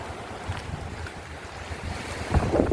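Sea waves and wind at a stormy coastline in winter, a broad steady roar of surf with gusts buffeting the microphone, swelling louder near the end, no voices.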